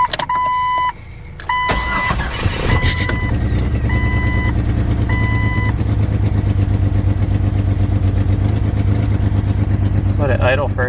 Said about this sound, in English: So let's crank it up and see if it starts, see if it idles funky.